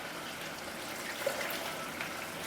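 Water trickles and splashes softly as a small amount is poured into a creamy chipotle pasta sauce, a faint, steady liquid sound lasting a couple of seconds.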